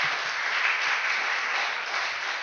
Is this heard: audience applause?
yes